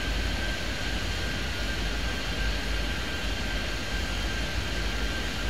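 A steady, loud roar of aircraft engines on the runway in Airport Madness 3D, continuous and unchanging throughout with a faint constant whine on top, and no voices.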